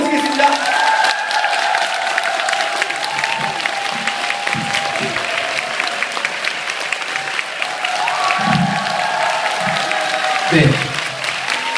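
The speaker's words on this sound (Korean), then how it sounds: "큰 박수로 모시겠습니다" Sustained audience applause filling a Korean lecture hall as a parenting lecturer is welcomed onto the stage, steady and loud throughout with a few scattered voices and shuffles underneath.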